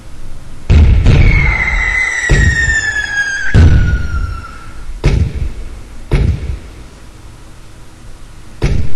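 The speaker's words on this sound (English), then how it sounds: "you'll hear fireworks in a second." Synthetic fireworks from the Skyrocket 3D screensaver on a Windows desktop: a series of sharp booming bursts, about seven across the stretch, with a long descending whistle trailing after the early blasts and crackly decay between pops.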